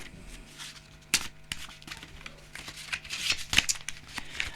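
Playing cards being shuffled up close, a run of crisp riffling clicks and snaps with a couple of sharper flicks.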